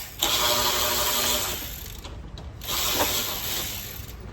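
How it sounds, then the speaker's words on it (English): A hand ratchet loosens bolts on the bumper assembly of an INEOS during a hidden light bar installation: two close, fast runs of rattling clicks with a short break between them. "So you've got to take all of the visible bolts out of this assembly so you can get this assembly off."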